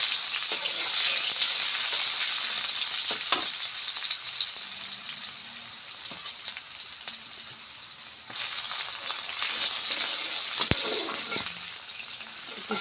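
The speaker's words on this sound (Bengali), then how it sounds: "পেঁয়াজটা কিছুক্ষণ ভেজে নিলাম" Chopped onion frying in hot oil with bay leaf, dried chilli and cumin, producing a loud, steady, bright sizzle throughout. Occasional stirring clatters break through the sizzle, and it surges briefly after a short dip.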